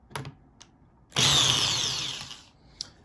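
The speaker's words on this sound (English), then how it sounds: "I put a hex-headed socket in there to take them out" A hex-headed socket on a power driver spins briefly to back screws out of an electric hand planer's blade carrier, a sharp whirring burst of about a second and a half between faint clicks and handling taps.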